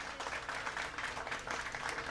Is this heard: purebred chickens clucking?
no